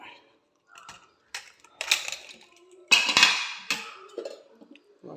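A pressure cooker of rice gruel with green gram is opened and handled, producing scattered metallic clinks, knocks and clatter in short bursts separated by quiet gaps.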